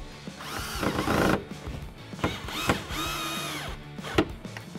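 A power driver tightens a fastener on a Corbeau 3-point retractable seat belt being installed in a 1979-2019 Ford Mustang. It sounds like several close, loud whirring bursts of varying length, with a rising and falling motor whine and clicks between them.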